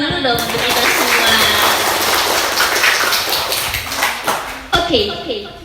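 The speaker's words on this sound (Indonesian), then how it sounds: "Tepuk tangan dulu dong untuk kita semua." An audience claps at a community drug-awareness outreach competition in Nanga Pinoh, Indonesia, a dense burst of applause while a speaker's voice carries over it, then tapering into isolated claps.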